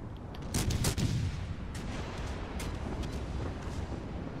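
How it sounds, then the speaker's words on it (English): Heavy naval guns boom from the battleship Arizona in World of Warships Legends, a loud burst of blasts near the start and then a rumbling, crackling tail of distant fire and explosions. "Arizona's fired"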